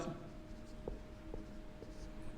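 Chalk or marker taps and scratches faintly on a classroom board as a question is written during a Class 10 maths lesson, a few soft strokes spaced apart over a quiet, hissy room.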